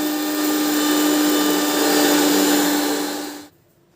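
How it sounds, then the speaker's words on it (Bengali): A mixer grinder whirs steadily and loudly as it blends a homemade hair dye paste, then cuts off abruptly near the end. "এবার মিক্সিতে ঘুরিয়ে নেব"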